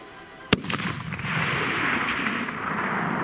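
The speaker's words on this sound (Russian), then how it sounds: "сейчас еще будет второй выстрел" A single sharp rifle shot cracks out, followed by a rolling echo that lingers and fades into a steady background hiss.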